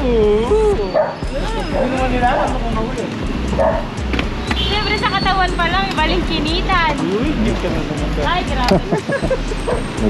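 Small dog yipping and whimpering in short, high-pitched bursts amid lively crowd chatter and background noise.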